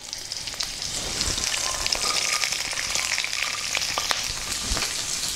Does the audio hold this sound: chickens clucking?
no